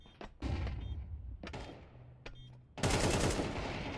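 Loud bursts of AK rifle fire in a first-person shooter video game, a few short shots followed by a sustained, dense volley at the end, close and sharp.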